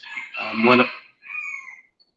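A rooster crows close by, one long strained call followed by a shorter trailing note, with no other sound around it.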